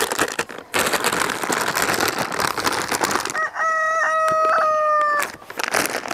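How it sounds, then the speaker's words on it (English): A rooster crows nearby in one clear, drawn-out call, rising and holding for about two seconds, set against steady hiss-like background noise before and after. "If he does that, if he crows one more time, I need to throw a rock at him."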